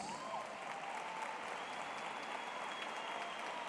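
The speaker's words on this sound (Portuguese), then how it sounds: "eu queria convidar você a acolhê-lo com uma salva de palmas" Applause from a congregation at a state Catholic charismatic renewal congress, a steady, fairly distant wash of clapping that holds evenly through the whole stretch, with a faint tonal hum beneath it.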